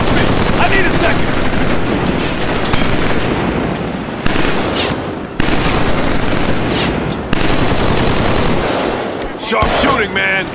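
Sustained rapid automatic gunfire from a firefight in the Killzone 3 video game, loud and dense with overlapping bursts throughout, cut by brief breaks and a final clatter near the end.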